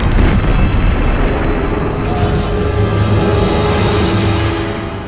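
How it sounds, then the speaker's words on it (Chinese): Artillery bombardment in a documentary about the Japanese Kwantung Army's 1931 shelling of the Northeastern Army's Beidaying barracks in Mukden: a dense, continuous roar of heavy booming blasts, loud and rumbling, with no clear breaks. "日本关东军开始炮轰中国东北军驻地北大营"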